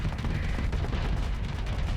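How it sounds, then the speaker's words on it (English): Dense, continuous barrage of explosions and gunfire from a sci-fi strategy video game battle, loud and unbroken throughout with no pauses. "Lots and lots of explosions."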